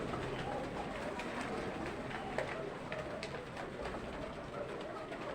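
Koka pigeons, including black, white and green foreign Arabian birds, coo softly inside a pigeon loft, a faint steady murmur of birds under low room noise.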